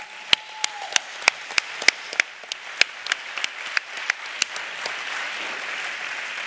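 At a congress closing ceremony, an indoor audience starts with scattered sharp hand claps that quickly swell into dense, continuous applause filling the hall.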